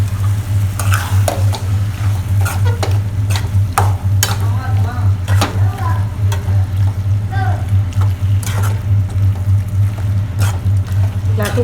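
Three-quarters of a kilo of mutton sautéing in a kadai for village-style varuval, with a loud continuous sizzle broken by repeated scraping stirs and clatter of a spoon against the pan.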